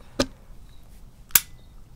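Two sharp plastic-and-metal clicks about a second apart, close and distinct against quiet, as a KWA/KSC Glock 19 gas blowback airsoft pistol is put back together.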